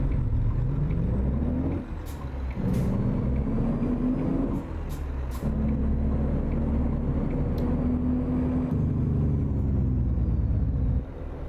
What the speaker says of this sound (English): We're running the A26 engine today.